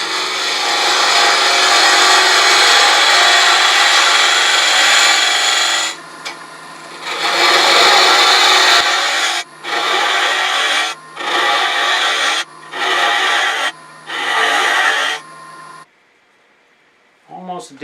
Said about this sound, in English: let's switch to a spindle gouge. Come in just like that and spin it out.